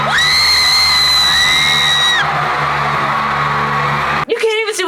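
Loud concert crowd at a show, with sustained high-pitched screaming and whooping voices filling the first half before settling into a dense roar of cheering, then a sudden close voice at the end.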